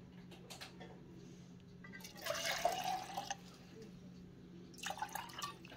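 Water is splashed from a container into a pot of yams cooking with onion and coconut cream, giving two short bursts of pouring and splashing amid quiet kitchen clatter and a low background hum.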